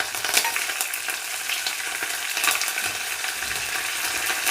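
Dried red chilies cut into pieces and curry leaves crackle and sizzle in hot oil, a steady close frying hiss with bright spits and pops and no voices.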